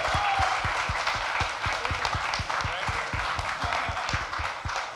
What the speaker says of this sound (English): can we give you a big round of applause